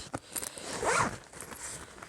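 A zipper on a craft supply case is pulled open in one quick, close rasping run, with a few soft handling rustles before and after and no talk.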